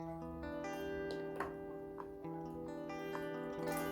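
Antique electric guitar played clean through its rhythm pickup with no amp simulation, sustained chords ringing warmly over about four seconds, with soft pick attacks and chord changes and no voices.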